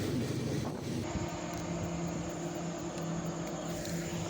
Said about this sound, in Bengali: এখন আমাদেরকে ক্রস করছে ট্রেন নম্বর 12343 শিয়ালদহগামী দার্জিলিং মেল।